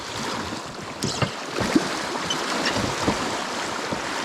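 Broad, steady rush of river water flowing past on a fly fishing trip, a continuous wash with a few small splashes and knocks rising briefly out of it, no voices.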